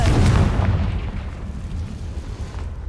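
A Confringo blasting spell goes off in Hogwarts Legacy with one deep, booming blast at the start, then a rumbling tail that slowly fades over a few seconds.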